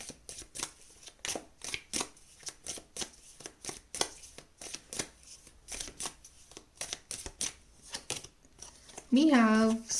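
Tarot cards are shuffled in a rapid stream of crisp riffling bursts for a reading, close to the microphone, with a short voice at the very end.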